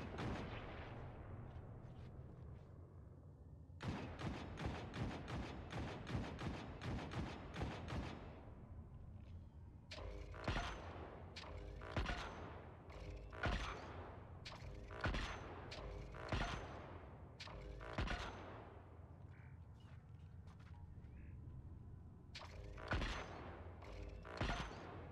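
Repeated gunfire while shooting enemies in Destiny 2, in a Legend Operation Seraph's Shield solo run: bursts of rapid shots with short pauses, loud and close, and scattered single shots in the later part.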